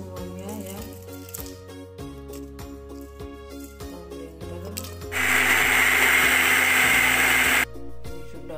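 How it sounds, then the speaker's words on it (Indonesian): An electric grinder blends dried chili, scallion and ground pepper into a spice paste. It gives a loud, steady whirring roar for a few seconds over background music, then cuts off abruptly. "Kita haluskan bumbu-bumbunya semuanya ya."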